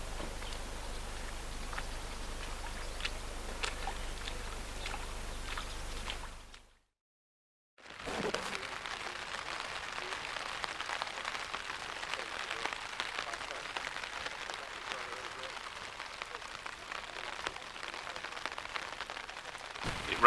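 Steady rain patters on a surface with a soft continuous hiss, broken by a brief silent gap before the rainfall resumes.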